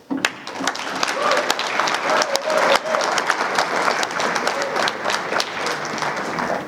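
Audience applause welcoming keynote speaker Jeremy Jester at a Hardin Valley Academy event, a dense, steady wash of clapping with some crowd noise that runs the full length at full strength.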